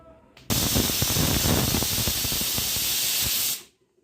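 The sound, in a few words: pressure cooker whistle releasing steam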